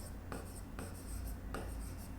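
Marker or chalk strokes scrape across a board during a Hindi-medium maths lecture on sets, a few close, distinct scratchy strokes in quick succession with no talking.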